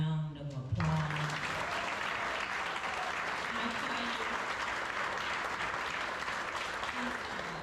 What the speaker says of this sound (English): Would you please just join me in giving Chloe a round of applause?